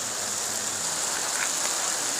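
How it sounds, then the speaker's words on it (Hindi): Hail pelts the ground outdoors at a mountain campsite, making a steady, dense hiss of tiny impacts that continues evenly throughout with no voices. "ये सफ़ेद छोटे छोटे दाने नज़र आ रहे होंगे, ओले पड़ रहे हैं"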